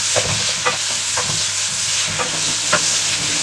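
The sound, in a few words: sautéing tomato with lemongrass and ginger for sinigang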